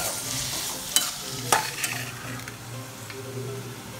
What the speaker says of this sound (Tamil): இது நாட்டு தக்காளி தான். போட்டு நல்லா வதக்கணும்.